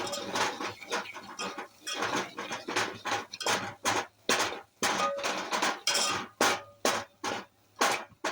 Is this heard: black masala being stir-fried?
yes